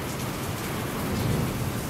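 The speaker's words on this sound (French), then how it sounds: "Orage de l'époque." A thunderstorm with heavy rain, steady dense hiss of rainfall with a low rumble of thunder swelling underneath, loud and continuous throughout.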